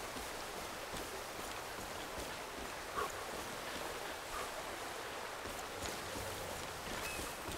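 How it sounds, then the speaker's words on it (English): A waterfall in the video game Far Cry 5 gives a steady broadband rushing roar of falling water, constant and fairly loud throughout, with no one talking over it. "Okay, that's a waterfall."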